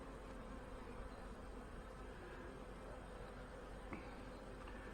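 Honey bees swarm over an opened hive frame where queen cells and drones are present, making a dense, continuous buzzing drone that stays steady and close throughout, with no talking.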